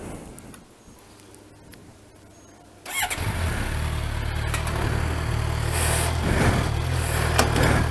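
A motorcycle engine starts after a few seconds of quiet handling noise, then settles into a loud, steady close idle as it runs to turn the chain during cleaning and lubing.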